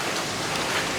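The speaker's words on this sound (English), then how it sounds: "it is still raining" Steady rain pours down in Bali, a dense, even hiss of drops on surfaces that fills the short moment without a break and with no voices.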